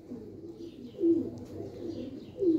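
A Kamagar pigeon, a Kasuri Kamagar male, coos softly and repeatedly at close range, low throaty rolling calls swelling twice in quick succession with no talk over them.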